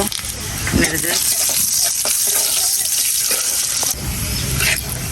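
Garlic and black cumin tempering in hot oil, giving a loud, steady sizzle and crackle with a few brief clinks, and a voice speaking over the frying.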